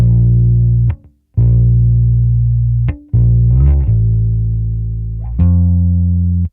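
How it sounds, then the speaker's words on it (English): A thick, distorted bass guitar tone through AmpliTube 5 amp simulation holds long sustained notes, loud and gritty, with brief gaps and pick scrapes between them. "every time I get louder in the bass, the distortion gets a little bit crunchy"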